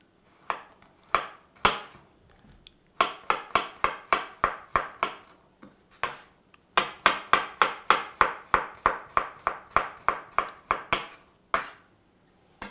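A knife finely slicing garlic on a cutting board, crisp rapid taps in quick rhythmic bursts separated by short pauses, close and clear with no talking.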